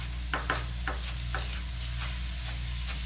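Meat browning in a pan for coal miner spaghetti sizzles steadily and close up, with a few scraping stirs of a utensil against the pan near the start over a constant low hum.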